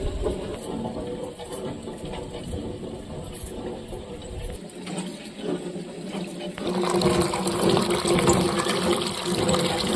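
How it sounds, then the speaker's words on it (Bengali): Tap water runs through a white cloth tied over the faucet, filling a container with a steady gushing, splashing flow that grows louder and fuller toward the end. "জল ভরা হয়ে গিয়েছে"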